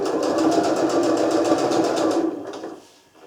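A sewing machine stitching a travel bag hums in a fast, even run close by for about two seconds, then winds down and stops.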